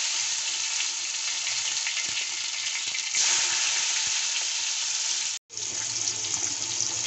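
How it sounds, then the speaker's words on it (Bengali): Cumin seeds and chopped tomatoes sizzle loudly in hot oil for an aloo shimla mirch dish, a steady close hiss of frying that briefly cuts out near the end, then resumes just as strong. "তেল গরম হয়ে গেছে, দিয়ে দিচ্ছি জিরে ফোড়ন, দিয়ে দেবো কেটে রাখা টমেটো"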